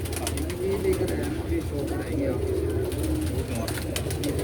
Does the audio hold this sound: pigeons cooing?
yes